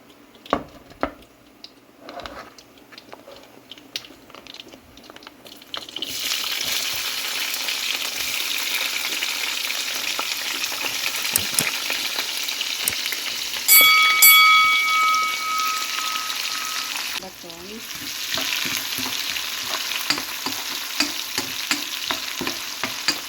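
A medium-size chopped onion hits a hot pan after a few quiet clicks, bursting into a loud, steady sizzle that briefly dips when stirred, then hisses on with scraping sounds.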